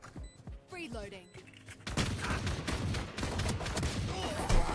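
Rapid gunfire from a Ghost pistol in Valorant on the Harbor map, a quick series of sharp shots following a short sweeping game sound, with repeated bursts close and loud.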